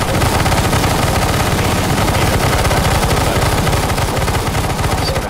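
Rapid automatic gunfire from CS GO Zombie Escape on the ze rizomata map, a dense unbroken stream of loud, close shots running continuously with no pauses.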